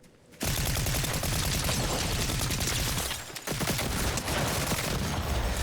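Dense, sustained gunfire in the Fortnite video game after a brief quiet opening, with loud overlapping shots and crashes continuing to the end, consistent with shotgun blasts amid other weapons fire.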